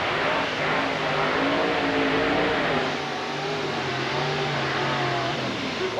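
Pro Mod blower/nitrous drag car at the 1995 IHRA Spring Nationals in Bristol, Tennessee, accelerating hard down the quarter mile, a loud rising engine howl with gear changes, sweeping away alone without talk.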